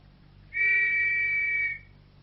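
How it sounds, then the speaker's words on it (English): A single shrill whistle blast, steady and piercing, held for just over a second against a quiet background, loud and close, in a radio drama setting. "I shall blow the whistle once more"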